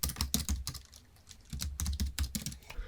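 Rapid keystrokes on a computer keyboard, clicking in two dense bursts with a short pause between them, close and clear with no voices.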